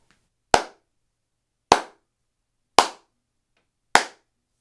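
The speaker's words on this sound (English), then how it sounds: "You can really hear it in the clap portion of the test" Four sharp hand claps, evenly spaced about a second apart, each ringing briefly in the center of an office room, quiet, with silence between them.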